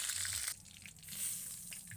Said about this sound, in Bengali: আমি এই যে মাছটাকে ভেজে তুলে নিব